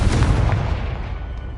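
Confringo blasting spell going off in Hogwarts Legacy, a loud booming explosion with heavy low rumble at the start that gradually decays over under two seconds.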